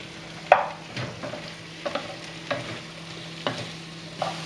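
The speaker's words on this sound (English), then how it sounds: "we're just going to stir this for about 5 minutes until the onion has gone soft" A spoon stirs softening onion and garlic in a hot pan, giving a faint steady sizzle with a handful of soft scraping strokes spaced about a second apart, no voices.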